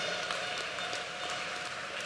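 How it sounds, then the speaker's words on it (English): Graduation ceremony crowd applauding steadily, a dense even wash of clapping heard at a distance with no pauses. "Please give him a round of applause"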